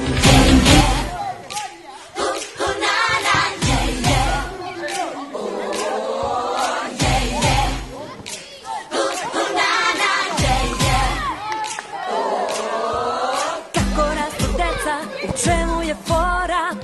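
A large school audience of pupils and teachers cheers and shouts through a sports final between sixth- and ninth-grade teams. The loud, continuous crowd noise rises and falls, with individual voices and whoops breaking through.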